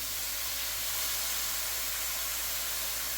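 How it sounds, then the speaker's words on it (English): Soy sauce hits a hot pan of Thai drunken noodles, giving a steady, fairly loud hiss of sizzling that stays even throughout and ends with a brief knock. "Soy sauce goes in."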